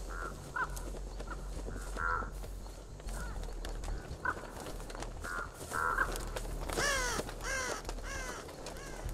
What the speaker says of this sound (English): You're gonna give yourself away with the crow.